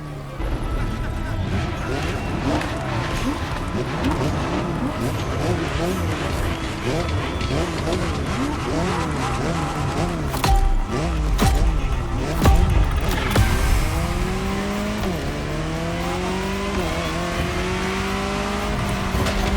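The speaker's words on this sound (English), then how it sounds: "The Jaguar CX-75 concept." A Jaguar CX-75 concept car being driven in The Crew Motorfest, with its engine whining and sweeping up and down through rising revs and gear shifts, loud and steady, under a person talking.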